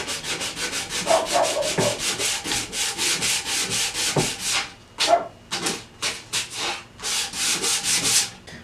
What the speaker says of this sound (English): Now I'll go back with the sandpaper, go right back over lightly over where that joint is